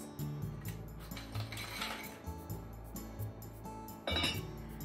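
Asari clams clink against one another and the pot as they go into daikon soup, a quick run of small, bright, close clinks and taps with no talking.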